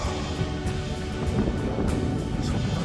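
Strong wind buffets the microphone on a Scottish hillside during a munro hike, a loud, dense, continuous roar with low rumbling gusts and no clear voice.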